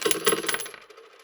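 Gold coins dropping as a sound effect, a bright metallic clatter of several coins landing and ringing close by, quickly fading over about a second.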